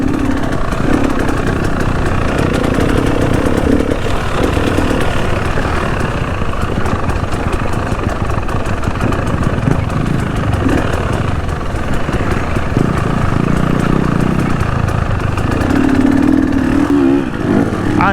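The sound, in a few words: motorcycle engine revving on trail ride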